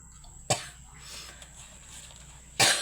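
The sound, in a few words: coughing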